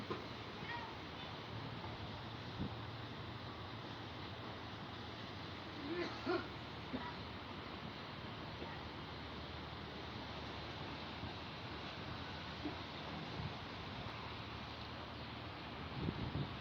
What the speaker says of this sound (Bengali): প্রচন্ড বাতাস প্রচুর বাতাস